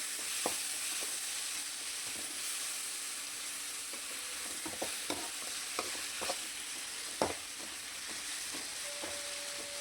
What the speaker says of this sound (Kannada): ಇದು ಚೆನ್ನಾಗಿ ಸ್ವಲ್ಪ ಫ್ರೈ ಆಗೋವರೆಗೂ ನಾನು ಈ ರೀತಿ ಚೆನ್ನಾಗಿ ಕೈ ಆಡಿಸ್ತಾ ಫ್ರೈ ಮಾಡ್ಕೊಂಡಿದ್ದೀನಿ ನೋಡಿ